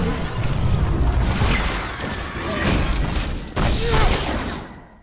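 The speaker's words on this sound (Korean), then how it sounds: "갑자기 궁전은 폭발하고 그렇게 주변은 쑥대밭이 되어버리죠" A palace explosion in a Mission: Impossible film: a loud booming blast with crashing debris, a second sharp burst midway, then the noise tails off.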